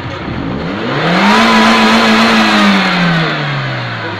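Suzuki M13A engine, swapped from a Swift Sport into a Liana, revving hard and loud, its pitch climbing, holding high for a couple of seconds, then dropping back toward idle.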